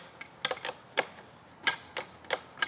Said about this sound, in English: That will take your 13mm end wrench, and we will just tighten here on the bottom.